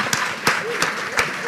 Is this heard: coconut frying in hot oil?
no